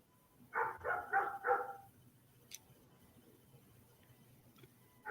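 A dog barks four times in a quick burst, fairly close and loud, then falls quiet over low background hum.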